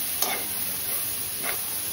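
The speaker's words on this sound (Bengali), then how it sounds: "দিয়ে একটু ভাজা ভাজা করে নিচ্ছি" Chopped ginger fries in oil as a soft, steady sizzle, broken by two brief scrapes of stirring and with no voices.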